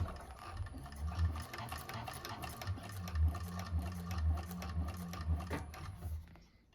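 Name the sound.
1341 cylinder arm sewing machine sewing across a bag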